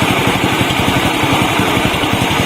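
A Viar motorcycle engine idles at low speed, a steady close putter with an even, rapid low pulse and no voices.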